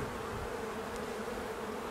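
Honeybees buzz in a hive during a spring inspection, forming a dense, continuous hum close by with no voices.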